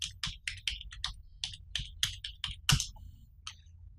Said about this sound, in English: I can just type in, say, a web address.